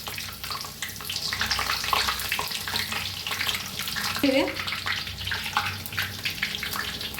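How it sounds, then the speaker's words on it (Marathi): Spinach pakoras deep frying in hot oil, turned to cook on both sides: a constant, close bubbling sizzle with faint stirring and clinks mixed in. "छान असे तळून घेऊया दोन्ही साइडने"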